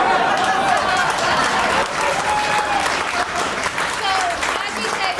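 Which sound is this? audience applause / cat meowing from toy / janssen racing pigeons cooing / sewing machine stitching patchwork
audience applause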